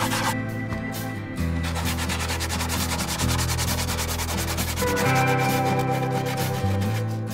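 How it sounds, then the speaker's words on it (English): Hand sanding of wood rasps back and forth in steady strokes, close and fairly loud, with a rhythmic scratchy texture. "A bit of manual sanding."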